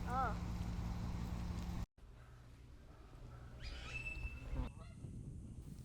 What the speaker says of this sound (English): One of the most common types of goose you will see here is the Canada goose.